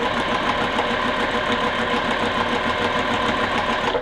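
A sewing machine stitches a quilt block, running in a steady, continuous mechanical whir with a fast needle rhythm, close and alone throughout.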